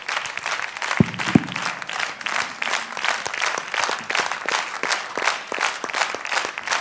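Audience applause fills a televised gala contest show, a steady dense clapping that carries through from start to finish, loud and close, with a few sharper claps near the start.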